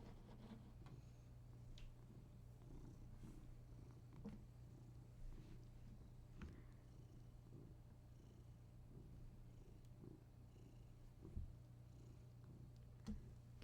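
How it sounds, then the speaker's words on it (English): A cat purrs softly and steadily throughout, a low continuous rumble held close by, with a few small clicks and shuffling sounds scattered over it. "I'm gonna give chat a little purr."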